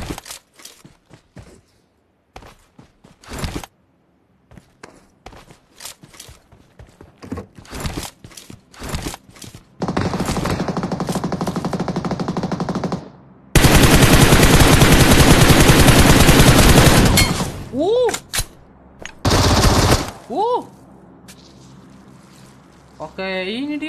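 Gunfire in the mobile battle royale game PUBG Mobile, with single loud shots, sustained full-auto spray bursts and weapon handling sounds, interspersed with someone talking.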